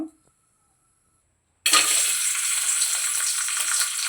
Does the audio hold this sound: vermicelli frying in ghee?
yes